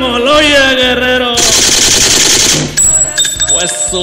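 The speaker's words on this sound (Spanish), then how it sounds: "Discúlpame, Rosy Hernández, por tanta balacera que he hecho." Machine-gun fire sound effect plays as a loud, dense burst of automatic gunfire over music for several seconds, ending in a sharper ringing tail.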